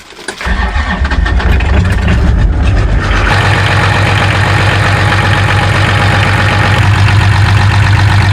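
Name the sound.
Jeep engine idling with leaking muffler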